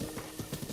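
A horse gallops in the video game Breath of the Wild, with a quick, rhythmic run of loud, close hoofbeats lasting under a second.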